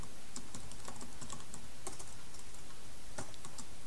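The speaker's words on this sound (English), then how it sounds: "I'm just going to type" Someone typing a Contact Us message on a computer keyboard, a steady run of light, close key clicks with brief pauses and a cluster of sharper taps near the end.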